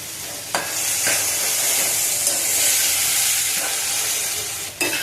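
Tomato masala for egg bhurji fries in a pan over a lowered gas flame, giving a steady close sizzle broken by a few sharp scrapes of the spatula.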